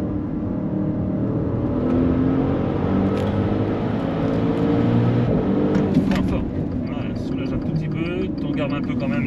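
A Maserati Levante Trofeo SUV's engine drones loudly and steadily while driving, a deep low rumble with a brief lift in tone midway, and a voice talks over it.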